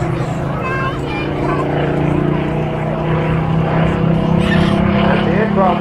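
A Supermarine Spitfire flying at the RAF Cosford airshow gives a steady, loud propeller-engine drone that swells slightly, heard from a distance beneath a commentator's running voice.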